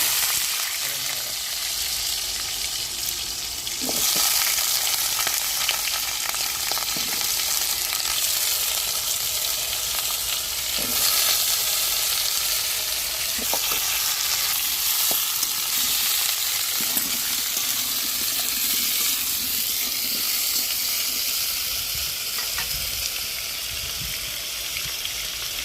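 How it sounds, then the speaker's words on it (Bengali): Potatoes frying in a pan for a vegetarian potato and pointed gourd dish, a continuous loud sizzle with occasional stirring clicks running steadily for the whole stretch. "ওই তো বসে আলুগুলো ভেজে নিতে হবে।"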